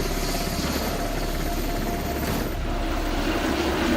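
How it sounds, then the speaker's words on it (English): A helicopter carrying a wildland fire crew roars steadily and loudly from close by in the cabin, a dense, continuous rotor and engine drone with no talk heard over it. "Hop in the helicopter, we buckle in."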